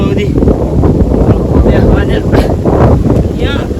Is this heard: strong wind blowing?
yes